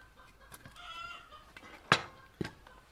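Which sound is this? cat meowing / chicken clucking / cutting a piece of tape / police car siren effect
chicken clucking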